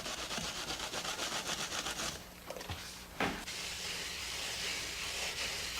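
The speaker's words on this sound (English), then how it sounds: "Now I'm using the wood float to pare away the excess." A wood float rubbing back and forth over fresh mortar on a wall to pare away the excess, a steady rasping scrape with a short pause midway and a light knock before the scraping resumes.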